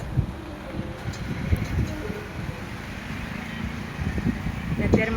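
Wind blows outside an office building in hot weather, a steady rumbling buffet across the microphone with gusts rising toward the end and muffled voices underneath.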